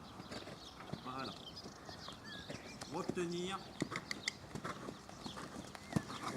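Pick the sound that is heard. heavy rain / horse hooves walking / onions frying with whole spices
horse hooves walking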